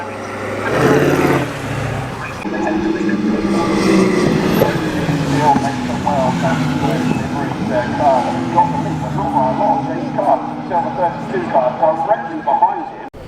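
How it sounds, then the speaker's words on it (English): A rough, rumbling old recovery truck engine idles and revs nearby at a classic car race meeting at Oulton Park, with people talking over it throughout. "This old recovery truck sounds fantastic as well."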